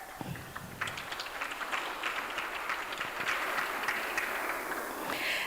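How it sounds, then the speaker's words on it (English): An audience applauds certificate recipients at a Walter Sisulu University and Samsung Innovation Campus ceremony in the Eastern Cape, a steady wash of many hands clapping at moderate distance, fairly faint and even throughout. "you, the recipients of the certificates, need to give your hands a round of applause"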